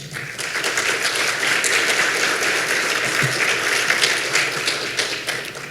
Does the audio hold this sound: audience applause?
yes